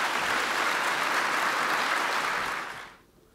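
Audience applause after a lightning talk at a Python programming conference, dense sustained clapping from a crowd that fades out abruptly near the end.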